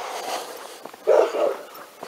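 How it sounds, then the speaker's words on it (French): Dogs bark in a French village, a short burst of a few barks at moderate distance standing out over quiet outdoor ambience. "On n'entend plus de chiens, mais si."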